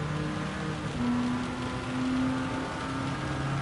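Steady rain hisses across a Gran Turismo 7 race, with a low engine drone running underneath at an even level throughout.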